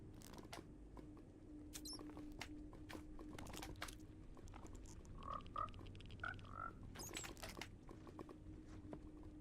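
Frogs croak in Minecraft, several short chirping calls popping up around the middle of the stretch over a quiet game ambience with faint clicks and taps.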